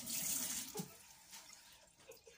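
Hot water runs from a newly installed faucet into a sink, a soft steady splashing stream that is quiet and fades after about a second, leaving faint room noise.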